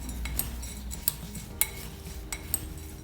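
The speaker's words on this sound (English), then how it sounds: "Mix it well." Spoon or utensil stirring fried boondi puffs with spices in a bowl, a steady scraping with a few sharp clinks against the bowl, close and alone.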